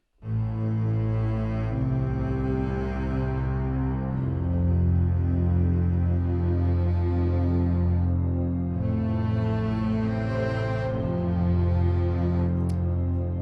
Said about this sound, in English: you can hear the nice cello underneath it, but it's kind of layered with those ambient tones